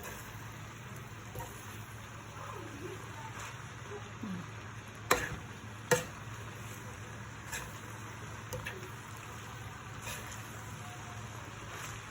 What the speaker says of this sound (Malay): Kita gaul makaroninya.